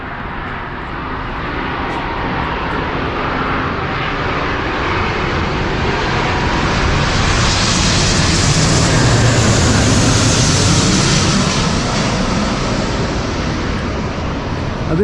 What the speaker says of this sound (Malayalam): ഒരു ഫ്ലൈറ്റ് വരുന്നുണ്ട്.